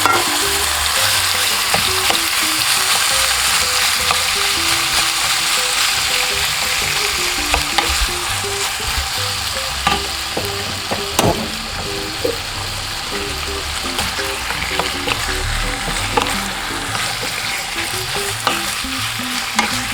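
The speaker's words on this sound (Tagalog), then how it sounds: "After 1 hour ng marination ng ating baka, ay i-stir fry na natin ito into 3 minutes." Marinated beef stir-fried in sesame oil, a steady loud sizzle and crackle with stirring and scraping throughout, no talk.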